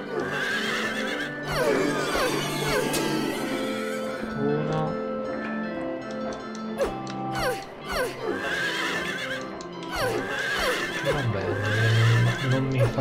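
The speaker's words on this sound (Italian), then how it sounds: "sto picchiando dei cavalli di una giostra con una katana" Eerie whinnying cries ring out as carousel horses are struck with a katana in Silent Hill 3, with repeated neighs over a droning background and heavy impacts scattered through.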